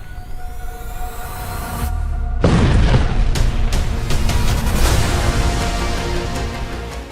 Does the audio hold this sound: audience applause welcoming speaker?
no